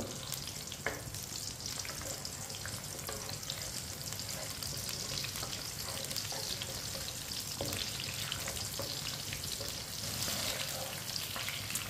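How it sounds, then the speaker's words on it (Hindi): Green chilies fry with onion in a pan, a dense, continuous close sizzle with occasional faint stirring clicks and no talk over it. "सब्ज मिर्च डालेंगे, 1 मिनट के लिए फ्राई कर लेंगे"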